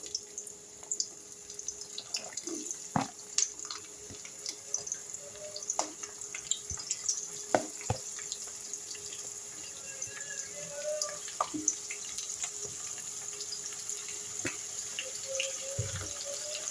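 Green chillies and onion go into hot oil in a home kitchen for a gongura dried-fish curry, giving a soft, steady hiss and crackle with scattered sharp pops and clinks, close and alone.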